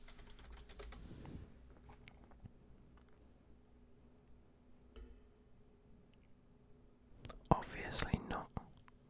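Soft, close typing on a computer keyboard, with faint clicks through most of the stretch and a denser flurry of keystrokes near the end, set against quiet whispering.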